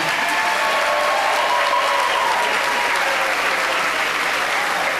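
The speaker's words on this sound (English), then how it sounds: "Ladies and gentlemen, clap it up for the honeymooners." A packed room of cruise passengers at a newlywed game show applauds the honeymooners, a loud, dense, unbroken wash of clapping that holds steady throughout, with no voices standing out.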